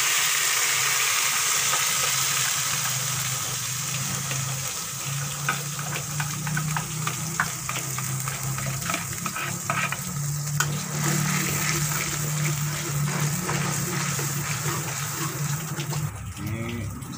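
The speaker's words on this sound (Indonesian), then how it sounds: "Sama kita tumiskan bumbunya." Spice paste sautéed in a pan for a fish head curry gives a steady, busy sizzle and crackle with light stirring scrapes that run through the whole stretch, near and moderately loud, with no talking.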